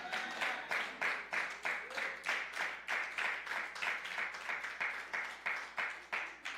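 A church congregation gives a clap offering during a Sunday service, a fairly quiet patter of rhythmic group clapping with steady pulses, heard without talk.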